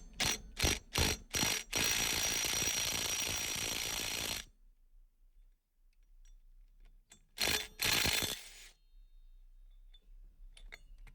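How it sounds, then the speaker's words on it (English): An impact driver with a 5/8 inch socket hammers loose a pulley bolt on a Craftsman or Husqvarna riding mower, giving several short rattling bursts, then a longer sustained rattle, a pause, and two more bursts, close up. "I just put that socket on my impact driver and go ahead and remove it"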